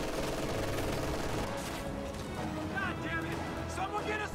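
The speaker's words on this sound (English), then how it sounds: "the machine gun up here is keeping that LT suppressed" Machine gun fire in a WWII real-time strategy game battle, rapid bursts mixed into dense game effects and ambient combat noise, under continuous commentary.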